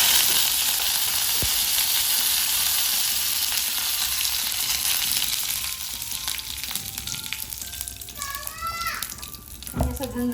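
Cumin seeds, mustard seeds and chillies hit hot oil for a tadka, giving a loud, steady hissing sizzle with faint crackles that eases toward the end, with a short clatter near the finish.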